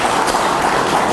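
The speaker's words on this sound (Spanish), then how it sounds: "Un aplauso para el doctor Jáuregui" An audience applauds Dr. Jáuregui at an academic event, a dense, steady wash of hand-clapping that fills the whole moment at close range.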